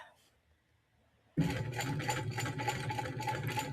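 An old-fashioned hand-crank sewing machine stitches a bag, starting abruptly after a quiet pause and then running in a steady rapid clatter of repeated stitches, close and prominent, with no talking over it.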